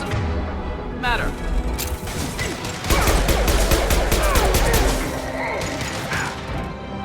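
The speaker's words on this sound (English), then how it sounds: "Firing a high impact shot!" A high-impact gunshot in the video game Mass Effect 2: a sharp heavy blast followed by dense crashing, rattling impacts and clatter, loud and close, with game voices in the mix.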